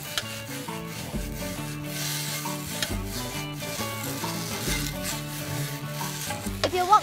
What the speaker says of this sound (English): Add in your hofa noodles